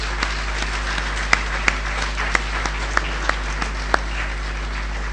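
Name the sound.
audience applauding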